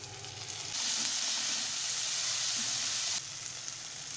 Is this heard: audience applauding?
no